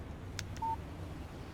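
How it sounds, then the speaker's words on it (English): A short electronic phone alert for an incoming text message in the Alan Wake video game: a single brief tone with a couple of faint clicks, heard alone over a low background hum. "Text message from Barry."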